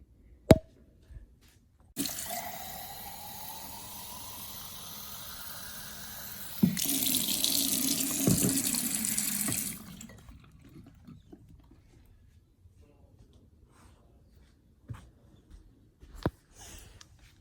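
Tap water runs steadily into a container for several seconds, then the flow grows louder and fuller before stopping, followed by quiet handling noises and a few small knocks.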